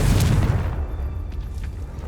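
A booming spell explosion from Hogwarts Legacy opens with a loud, broad blast that rumbles and decays over about two seconds, with faint debris-like crackles in the tail.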